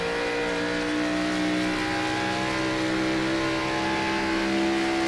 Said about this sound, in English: Love the sound of those cars.